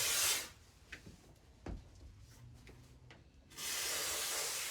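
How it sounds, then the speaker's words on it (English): Short bursts of hissing spray foam insulation being applied over foam board in an attic open and close the clip, with quiet scattered taps and rubbing sounds in the gap between them. "You'll notice that I'm spraying over top a foam board"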